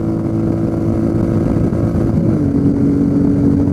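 Royal Enfield Meteor 350 motorcycle on a test ride, its engine giving a steady, loud, low hum that holds throughout and shifts slightly in pitch partway through.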